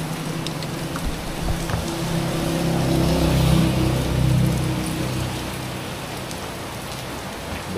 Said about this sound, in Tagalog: Umaga, inabot na tayo ng ulan.